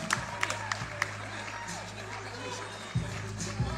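A crowd at a fight event applauds the fighters, giving a steady wash of clapping and cheering with a few sharper bursts, while a voice speaks over it.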